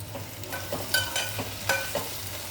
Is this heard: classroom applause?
no